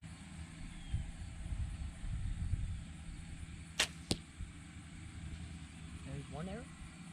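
A compound bow drawn at about 45 pounds releases an arrow in a sharp snap, followed moments later by a second crisp impact. Low engine-like rumble and faint background noise run underneath.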